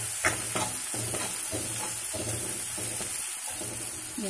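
Egg and leafy greens curry frying in a pan, with a steady sizzle and regular scraping strokes of a spatula stirring every half second or so, close by with no talk.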